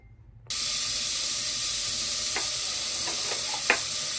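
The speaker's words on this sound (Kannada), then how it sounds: "ಈಗ ಒಗ್ಗರಣೆ ಮಾಡ್ಕೊಳ್ಳೋಣ." After a brief near-silence, mustard seeds, garlic and curry leaves hit hot oil for a tempering, bursting into a loud, continuous close sizzle with a few sharp spits and pops.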